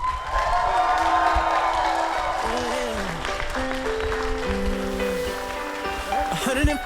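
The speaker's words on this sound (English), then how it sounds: "Ladies and gentlemen, will you stand up and cheer" Wedding guests cheering and applauding for the newly married couple, a broad crowd roar with clapping that stays steady throughout, while tonal music or sustained notes sound over it.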